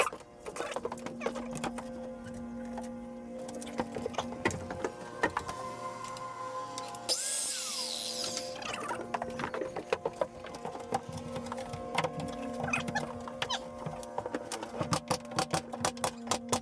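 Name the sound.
cutting a wooden board for a camper van interior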